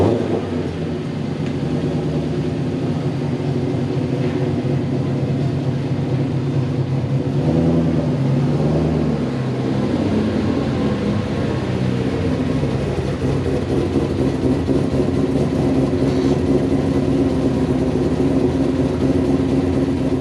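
A 2010 Ford Shelby GT500 engine runs steadily while driving after a heat exchanger pump replacement, a loud continuous rumble with swells that suggest revving, heard alone with no talk.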